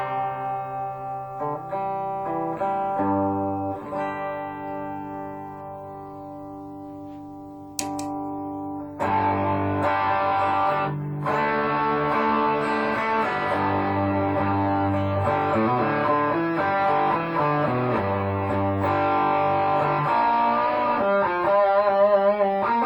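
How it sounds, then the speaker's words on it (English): A Les Paul electric guitar played through a clean Boss Katana amp with a little reverb rings out in sustained chords and single notes, loud and close, with no talking. "Les Paul through the clean Boss Katana."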